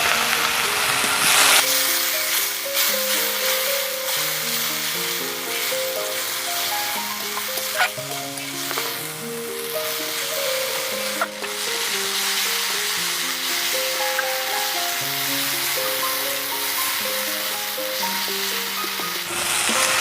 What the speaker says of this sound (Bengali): এবার মশলাটা ভালো করে কষিয়ে নেব।